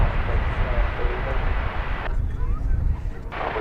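Airliner inbound to land at DFW Airport after a roughly 12-hour flight, a loud broad jet roar that holds steady, dips briefly, then swells again, with a voice speaking over it.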